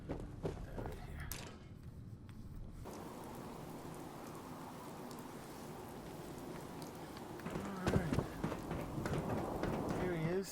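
Steady rain falling in the Fallout 4 video game, a continuous soft hiss with scattered drops, joined later by a voice speaking over it.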